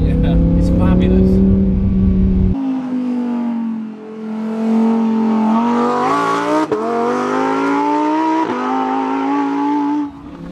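Lamborghini Huracán Performante being driven hard, a loud engine note climbing and dropping through downshifts with brief blips and gear changes, steady close cabin-level roar while someone talks over it.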